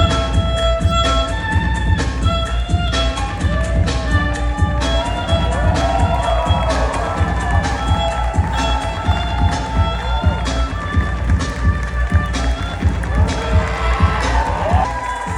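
Sustained applause at a Rio Fashion Week runway show for a baroque, embroidery-covered collection from a Minas Gerais label, dense rhythmic clapping from a large audience with scattered cheers, steady and fairly loud for the whole stretch.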